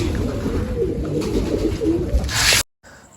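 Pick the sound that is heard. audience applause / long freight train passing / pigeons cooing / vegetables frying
pigeons cooing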